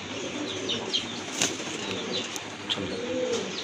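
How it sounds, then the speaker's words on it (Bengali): A pair of grizzle pigeons flap their wings close by in quick bursts, with soft cooing and rustling in between. "আরেক জোড়া গ্রিজেল কবুতর"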